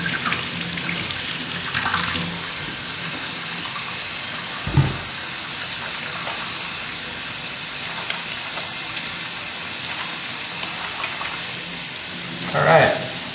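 Running water from a tap rinsing a mud pack off the body, a steady loud rushing stream with a brief splash and a slight gurgle near the end.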